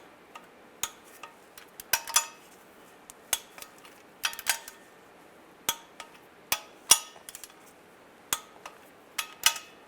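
Bolts on a rear main seal cover of a 2007-2013 Chevy Silverado are torqued, giving sharp metallic ratchet clicks and taps at irregular intervals, close and crisp over a quiet background, with no talking.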